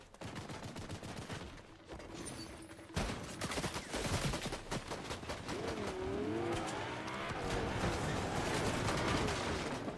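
Rapid bursts of gunfire from Fortnite gameplay crackle near and loud, with dense overlapping shots and a short pause before a sustained barrage mixed with other game effects.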